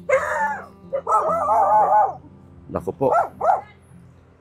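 Dogs bark and howl nearby in a rural Philippine setting, giving drawn-out whining howls followed by a cluster of shorter barks, with a person speaking briefly.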